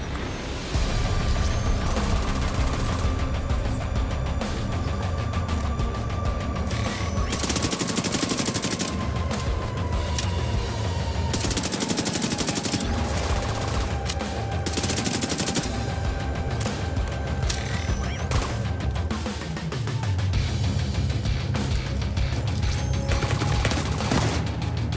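Continuous heavy gunfire in The Division 2: Warlords of New York, long rattling automatic bursts and repeated shots running the whole stretch over a steady droning score, with loud crashes and a sliding tone in places.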